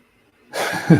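A single sneeze in a workshop during model construction: silence, then a sudden burst about halfway through that ends in a sharp, loud, close final expulsion.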